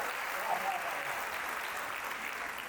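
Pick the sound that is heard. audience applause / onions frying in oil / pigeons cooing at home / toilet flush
audience applause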